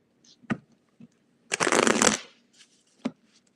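Tarot cards being shuffled close up: a few sharp single snaps, then a dense half-second riffle, followed by another crisp snap.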